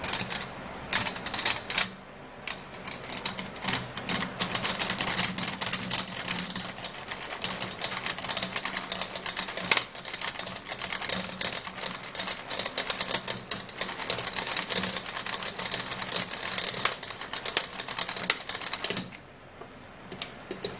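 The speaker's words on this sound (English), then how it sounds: "now I would have to use my manual mixer to mix it up so that it can actually mix really well" A manual hand mixer whisks a skincare mixture, giving a continuous dense rattling and clicking churn that runs steadily for about twenty seconds, close and fairly loud, with a brief pause near the start and a drop near the end.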